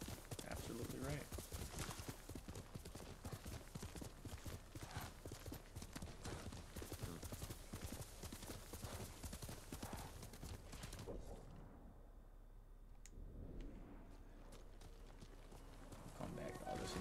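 Steady clip-clop of horse hooves in the game Ghost of Tsushima runs throughout, mixed with game music and a voice talking over it; the texture thins briefly near the end.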